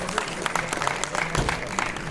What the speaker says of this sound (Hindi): दीपक सारण जी का तो एक बार जोरदार ताली बजा दो भाई।